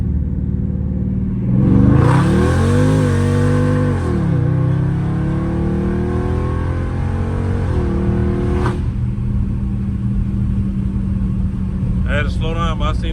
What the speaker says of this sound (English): What y'all think about these downshifts?